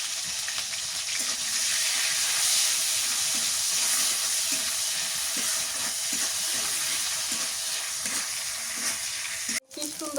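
Vegetables sizzle in hot oil in a pan for a Bengali dried-fish and potato-okra dish, a steady close hiss with soft stirring and spatter, then a sharp clatter near the end.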